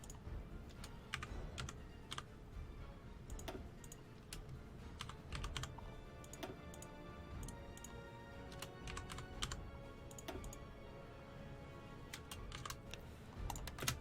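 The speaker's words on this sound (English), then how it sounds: "Typing in numbers manually." Numbers being typed manually on a computer keyboard, a steady run of quick, light key clicks with irregular spacing continuing throughout, close and fairly quiet with no voices.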